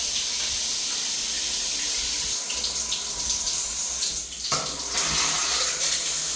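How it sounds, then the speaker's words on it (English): Shower water runs steadily in a hotel bathroom in Stockholm, a loud continuous spray and hiss that shifts slightly partway through as the stream changes, with no talking. "That was like a pretty good shower."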